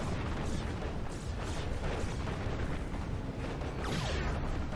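Uber cannon fire in a strategy video game battle, heavy booming blasts and rumbling mechanical noise layered into a dense, continuous loud mix.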